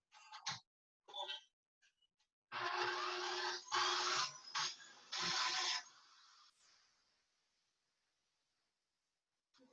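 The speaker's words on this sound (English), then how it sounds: "so I'm going to stick this on the mixer" A stand mixer whirs through a dairy-free, gluten-free dessert batter, running in short, uneven bursts before winding down into silence.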